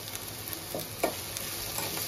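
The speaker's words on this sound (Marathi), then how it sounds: "इकडे बघा आपली कांदा मिरची झालेली आहे परतून." Onion and green chilli frying in oil in a pan: a steady close sizzle with soft stirring scrapes throughout, no voices.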